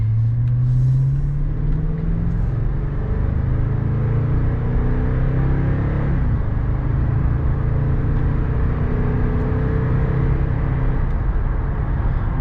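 A 2014 Toyota Tundra pickup's engine drones steadily while driving, a continuous low rumble with shifting tonal hum as the revs change, close and unbroken with no talking.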